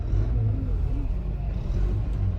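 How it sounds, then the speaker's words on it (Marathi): Heavy traffic on the six-lane Bhiwandi bypass makes a steady, close, low rumble of engines, continuous for the whole stretch with no clear breaks. "खूप मोठी गर्दी आहे इथे तुम्ही बघू शकता बघा खूप ट्रॅफिक आहे"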